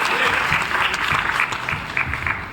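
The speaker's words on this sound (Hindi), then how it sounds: "एक बार जोरदार तालियां होनी चाहिए उदय जी के लिए।" An audience at a comedy show in a Bollywood theme park in Mumbai claps for a comedian, a brief burst of full, close applause from the crowd that eases off slightly at the end.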